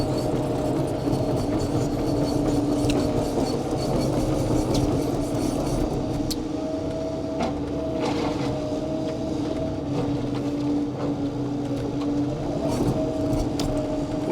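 A 2018 Caterpillar Cat 308E2 CR hydraulic excavator on road liner pads swings its upper body around, its engine and hydraulics holding a continuous, even mechanical drone with faint rattles throughout.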